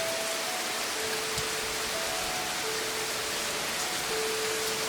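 Heavy rain in the Savannah area hisses as a dense, steady wash of noise that holds evenly throughout, with faint steady tones running beneath it.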